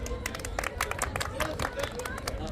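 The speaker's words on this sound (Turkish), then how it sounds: "Hadi alkış." A crowd at an outdoor gathering in Türkiye claps in a dense, uneven patter, with a babble of voices and shouts mixed through it.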